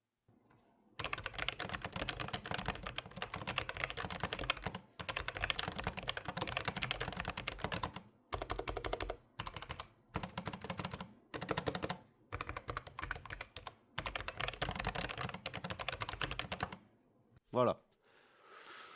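Steady bursts of typing on a Logitech MX Keys keyboard with brown switches, keys clattering close and dense in runs separated by short pauses, ending with a brief separate sound near the end.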